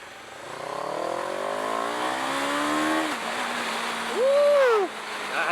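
A 2023 CFMoto 700 CL-X Sport motorcycle engine climbs in pitch while riding up toward high revs, then drops briefly as the gear changes and surges again. The rider's wind-buffeted, close-up sound stays loud and steady.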